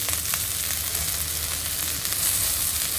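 Garlic and chili sizzling steadily in hot oil in a pan while a chicken manchow soup is being made, a dense continuous frying hiss with no talk.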